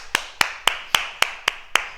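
A small group clapping in unison after a martial arts movement exercise, seven sharp evenly spaced claps in quick rhythm, close and clear with no talking.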